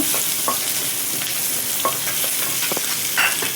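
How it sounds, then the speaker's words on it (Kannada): Ginger frying in a pan with garlic, a loud continuous sizzle with scattered pops and light crackles, close up and with no speech. "ಸ್ವಲ್ಪ ಶುಂಠಿ ಹಾಕ್ಕೊಳ್ತಿದ್ದೇನೆ. ಇದು ಚೆನ್ನಾಗಿ ಹುರಿಬೇಕು."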